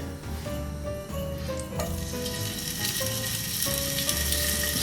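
Lamb browning in a hot frying pan for a Scandinavian Yule dish, a steady hiss of sizzling fat that grows slightly louder, with sustained tonal notes running beneath it.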